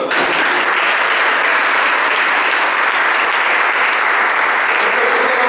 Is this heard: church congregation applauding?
yes